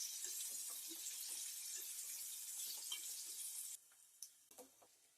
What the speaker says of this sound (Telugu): వీటిని ఇప్పుడు ఆయిల్లో కొంచెం ఫ్రై చేసుకున్నామండి.